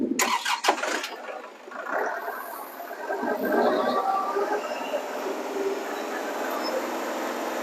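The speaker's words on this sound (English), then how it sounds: "So, Chris, fire it up" A Kubota L4701 tractor engine cranks with a few sharp rapid bursts, catches and settles into a steady mid-pitched diesel idle, close and moderately loud.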